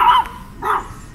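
A dog gives two short, mid-pitched barks or yips, close by and fairly loud, with a brief pause between them and no talk.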